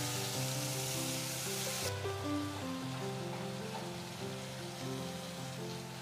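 Ridge gourd pieces frying in a pan with tomato and dal, a soft continuous sizzle at low volume beneath steady tonal background notes.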